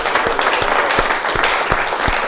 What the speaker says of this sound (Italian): lo facciamo ora qui noi da studio con un grande applauso agli amici di Mar del